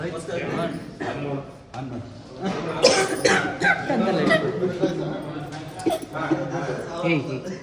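A few coughs come amid lively chatter and chuckling from several people nearby.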